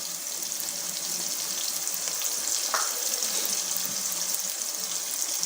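Green chilies sizzle in hot oil while a dhaba-style bhindi masala is cooked, a steady bright frying hiss running throughout with a faint stir or clink partway, no voices.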